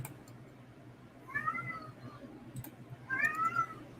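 A cat gives two distinct, fairly faint meows about two seconds apart, heard over low room hum.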